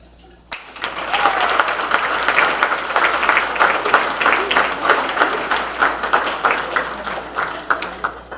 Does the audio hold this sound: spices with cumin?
no